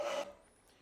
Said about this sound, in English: you are sawing against the grain